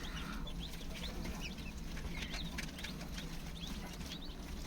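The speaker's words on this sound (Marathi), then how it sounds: "गावठी कोंबडीची पिल्लं आहेत" Many one-day-old native village chicks chirp and peep continuously in quick, high calls, close by over a steady low background hum.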